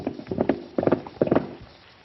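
Horse hooves clip-clop on hard ground in a 1934 western, where the horse has picked up a stone in its hoof; three clustered bursts of uneven hoofbeats ring out near and clear over about two seconds.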